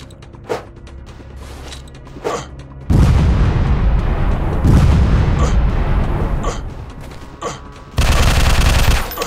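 In the video game Fire Strike, gunfire erupts in loud, close bursts. A few sharp single shots are followed by a long rolling volley and then another heavy burst near the end.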